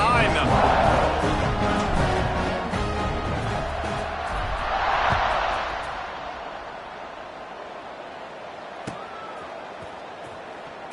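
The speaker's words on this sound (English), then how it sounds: "They're set to kick it off, and this crowd now ready to get behind them." A stadium crowd roars at kickoff of a college football game, a broad sustained wash of cheering that swells and fades, heard under continuous commentary.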